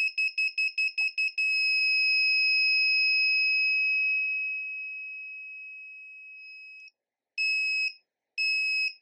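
An active buzzer module on an Elegoo Uno R3 board beeps piercingly and rapidly several times, then holds a long steady tone that fades, followed by two more short blasts.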